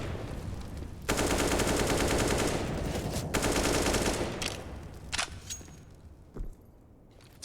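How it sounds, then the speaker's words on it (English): Two long, loud bursts of automatic AK rifle fire in CS:GO on the Nuke map, emptying two magazines into a hut, each burst a dense stream of shots, then a few scattered single cracks as things quiet down. "Two magazines of bullets pumped out of Valda's AK into the hut"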